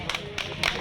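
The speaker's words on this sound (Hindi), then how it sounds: "तालियां तालियां" Short bursts of hand clapping from a small group of people at an outdoor coronavirus awareness gathering in Uttar Pradesh, a few quick claps that rise and fall, close and fairly loud.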